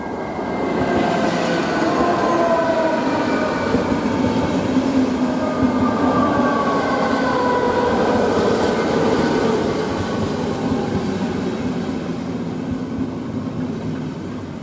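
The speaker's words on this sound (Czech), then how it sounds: "Nepřibližujte se ke koleji, na kterou vyjíždí vlak." A train arriving at Praha-Běchovice station rolls steadily past at close range, a continuous rumbling roar with faint metallic squeals, sustained throughout without voices.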